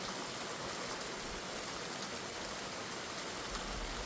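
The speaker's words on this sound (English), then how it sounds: "Now you can see some rain." Light rain falls in steady, faint, even patter as wind starts to pick up ahead of a storm, with no voices over it.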